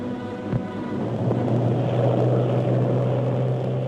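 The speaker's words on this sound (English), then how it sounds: "Groups of aeroplanes dived in formation, showering congratulatory leaflets all around." Several propeller aeroplanes of the 1951 Afghan Independence Day celebration dive together in formation, a loud, steady droning engine roar that swells slightly and holds throughout without speech.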